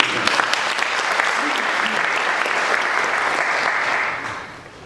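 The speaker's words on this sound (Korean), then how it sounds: "박수 한번 해주세요" Audience applause breaks out in a Korean hall during a speech by the Gyeongsangbuk-do governor, a dense, steady clatter of many hands lasting several seconds before fading out near the end.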